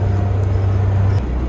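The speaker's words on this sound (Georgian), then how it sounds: "ბაზრის მარშრუტკა" A marshrutka minibus headed to the bazaar drives past with a steady low engine drone that holds, then drops in pitch near the end; no voices are heard.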